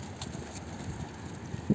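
Strong wind buffets the microphone at a seaside spot, a steady low rumbling roar with faint gusting, heard alone without talk.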